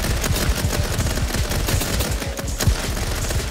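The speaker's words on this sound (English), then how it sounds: "Oh, somebody's shooting at me." Rapid gunfire in the Roblox battle royale game Rift Royale: dense, overlapping bursts of automatic shots in a steady, loud barrage that runs without a break.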